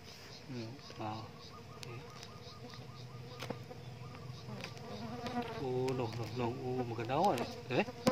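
Bees buzzing in a coconut tree, a busy droning hum up close while people talk and call out over it throughout.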